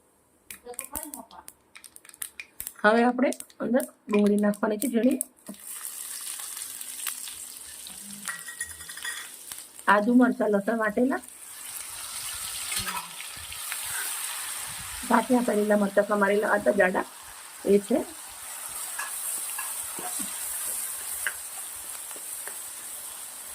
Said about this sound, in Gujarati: સરસોનું તેલ સરસ ગરમ થઈ ગયું થોડું એવું જીરું લીધું છે અને અડધી ચમચી થોડી રાઈ લીધી છે એક લાલ મરચું છે